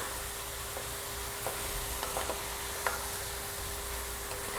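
Okra fries with beef in a single pot, a steady broadband sizzle and hiss with a few faint scrapes and ticks of stirring throughout.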